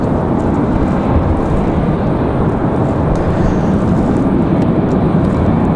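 A Copa Airlines Boeing 737 MAX 9 departs Raleigh-Durham airport bound for Panama City, its steady broadband jet roar loud and continuous throughout with no voices over it.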